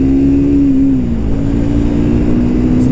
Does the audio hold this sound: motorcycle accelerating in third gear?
yes